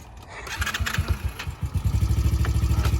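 A small Honda engine, likely a chainsaw, sputters and catches, then runs with a rapid, steady chugging beat, loud and close throughout.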